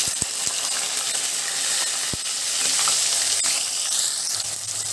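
Onion pieces fry in hot oil with mustard seeds and cumin for Rayalaseema uggani, a steady close sizzle and hiss punctuated by a few sharp popping clicks, with no voices.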